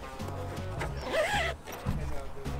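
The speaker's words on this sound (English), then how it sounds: "And it just simply zips up." A zipper closes the storage bag for a 2021 Ford Bronco door, giving a quick, rasping zip at close range, with light handling noise around it.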